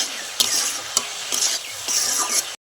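Vegetables and dal with salt and turmeric stirred in a pan, the spoon scraping in a few distinct strokes over a bright, continuous sizzle, close by and with no voices.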